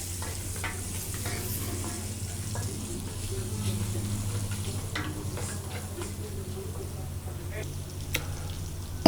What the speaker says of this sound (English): add some cooking oil, brown the meat